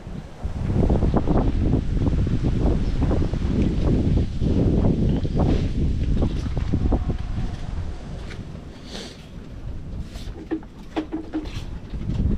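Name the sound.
strong wind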